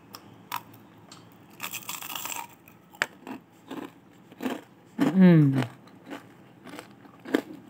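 Crunchy food bitten and chewed close up, with a run of crisp crunches and crackles spread through the clip and a brief voice sounding in the middle.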